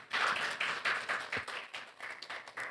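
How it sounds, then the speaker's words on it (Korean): Polite applause from a seminar audience on artificial intelligence ethics, a steady patter of hand claps at moderate distance that fades slightly toward the end, with no talking over it. "박수로 환영 부탁드리겠습니다"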